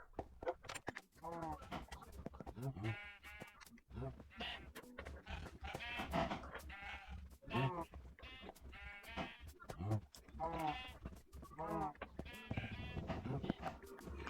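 Sheep bleats from the Minecraft video game, Bedrock edition, recur across the stretch beneath continuous talk, several short wavering calls spaced irregularly at moderate loudness.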